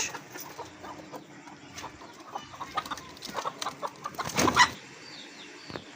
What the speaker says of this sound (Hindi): मेरी मुर्गियाँ जा रही हैं जी बाहर।